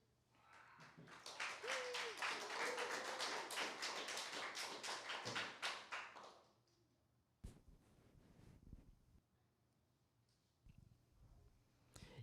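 A small live-show audience claps in a dense burst of applause for about six seconds, then it fades into scattered claps, thumps and cheers.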